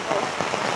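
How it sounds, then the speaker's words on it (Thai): Heavy rain pours steadily onto a surface around a house where posts are being raised, a dense continuous hiss with a faint voice underneath. "บรรยากาศฝนตกเลยพี่น้องเลย"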